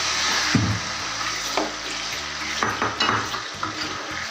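Chicken hits hot ghee with whole spices and a loud sizzle bursts out, settling into steady frying hiss with a few clattering stirs and scrapes in the pan toward the end.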